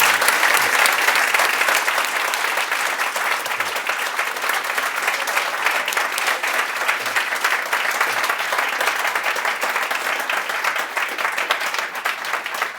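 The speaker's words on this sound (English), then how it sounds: "please join me in a huge round of applause" At a book talk, an audience gives a long, loud round of applause made of dense overlapping claps. It holds steady for the whole stretch with no speech over it.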